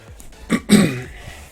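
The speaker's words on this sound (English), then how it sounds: "I got a cough." A single person coughs or clears their throat twice in quick succession, close to the microphone and loud, with no other sounds around it.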